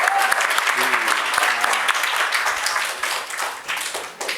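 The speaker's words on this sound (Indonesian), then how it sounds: "Tepuk tangannya" A crowd claps in applause for a few seconds at a school religious gathering, steady and fairly close, tapering slightly toward the end with a voice briefly audible.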